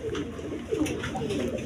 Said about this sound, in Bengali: এখানে এক পেয়ার কবুতর আছে,